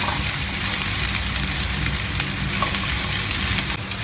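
Grated coconut fries and sizzles loudly in a pan on medium heat while being stirred continuously, a dense, steady hiss close to the listener with no speech.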